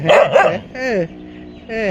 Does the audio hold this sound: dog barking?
yes